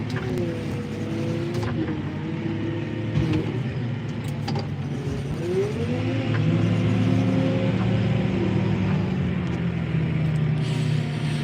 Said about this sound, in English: Getting a bit skatey here. 4-wheel drive on.